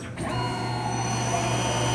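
A CNC mill cuts steel at about 3,400 RPM and 28 inches a minute, giving a steady, loud machining whine with sustained tonal overtones and a faint hint of chatter throughout, with no voices.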